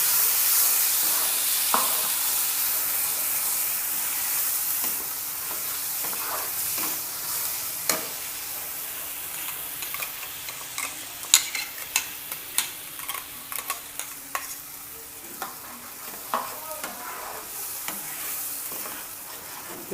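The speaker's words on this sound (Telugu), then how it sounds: "ఈ పోపులో ఇది మొత్తం బాగా కలిసిపోయేటట్టు ఒకసారి కలియబెట్టండి" Blended tomato chutney sizzles in a pan of hot oil tempering while a spoon stirs it, giving a low steady fry with sharp scraping and tapping clicks that grow busier toward the end. No one speaks.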